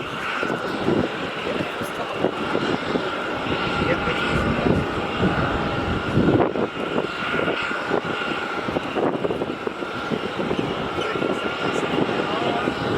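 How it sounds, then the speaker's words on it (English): A Scoot Boeing 787-9 Dreamliner pushing back at Melbourne Airport gives off a constant broad engine roar and whine, heard from nearby for the whole stretch while someone talks over it. "And we have this scoot pushing back now, as we have been waiting for."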